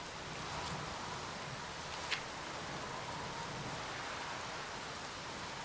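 In a game set in a Berlin apartment, steady rain hisses evenly throughout, with one brief sharper tick partway through.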